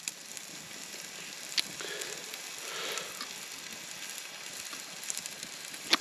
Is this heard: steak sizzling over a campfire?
yes